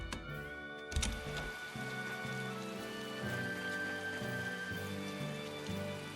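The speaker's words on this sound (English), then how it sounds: "It rains so much in Westgand." Steady rain pours in the rainy region of Westgand in the video game Tales of Berseria, a constant soft patter under a quiet musical background, with no talking.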